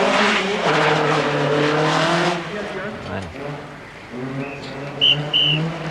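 A Lancia Delta rally car races at the 1988 Race of Champions, its engine roaring and revving hard with tyre noise, heard from trackside under a commentator's excited talk.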